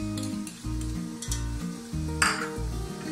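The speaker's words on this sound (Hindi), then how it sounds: "जी स्लो पे फ्राई करिएगा, चिपक ना जाए। अदरक लहसुन इसमें ऐड करें" Chicken sizzles and fries in a pan with ginger and garlic over a slow flame, with steady crackling and occasional stirring scrapes and utensil clinks; a louder burst of sizzle comes near the end.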